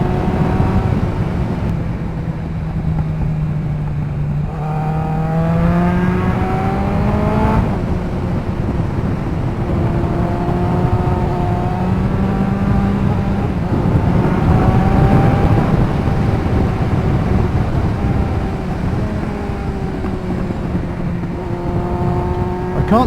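Kawasaki ZX9R sports motorcycle engine droning steadily under continuous wind rush, with pitch rising and falling through gear changes at an easy cruising pace, loud and close throughout.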